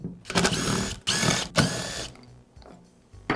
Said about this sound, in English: I'll begin by removing the front pulley.